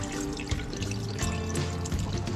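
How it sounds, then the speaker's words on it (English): Rinse water drained out of a pot of raw rice, a steady close pour and trickle of liquid running alone with small drips and splashes throughout. "Drain the water from the pot."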